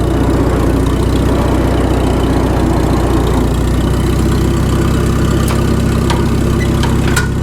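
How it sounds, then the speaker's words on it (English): An old Farmall tractor engine runs steadily and loud throughout, a low droning idle with a faint whine from the rear end, broken by a few light clicks near the end. "It does have that farmall whine in the back end."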